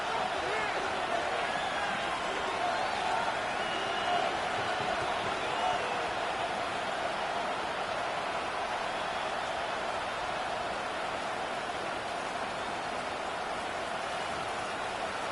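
A steady, loud stadium crowd roar fills an NFL football game between the Bills and Seahawks, a dense, unbroken wash of noise with a commentator's voice running over it.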